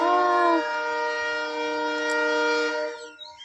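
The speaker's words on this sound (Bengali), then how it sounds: "ট্রেনের সিগন্যাল শোনা যাচ্ছে" A train horn sounds from a nearby station, one sustained, steady, harmonic blast lasting about three seconds, fairly loud and clear against a quiet background before it fades out.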